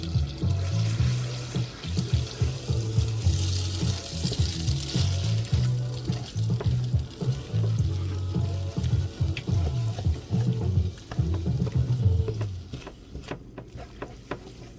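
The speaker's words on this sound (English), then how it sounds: "now I think we just stir it all up" Pad Thai instant noodles are stirred in a frying pan, giving a steady wet scraping and sizzle with rhythmic clatter, close and fairly loud, with no talk over it.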